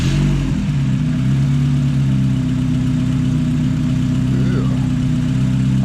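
Car engine idling after a throttle body cleaning, a loud, close, steady low rumble with an even hum and no revving, holding constant throughout.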